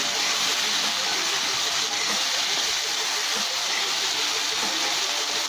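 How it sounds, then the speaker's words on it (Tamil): Tomatoes sauté in a pan for a squid (kanava) thokku, giving a steady, loud broadband sizzle and hiss that runs unbroken throughout with no voices. "தக்காளியை எடுத்து சேர்த்துக்கலாம். தக்காளி நல்லா வதங்கட்டும்."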